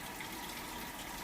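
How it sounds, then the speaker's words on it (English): Water gushes steadily into a Whirlpool HE washing machine during its fill cycle, a continuous close hiss and rush with no talking. "So we'll let this fill up with water"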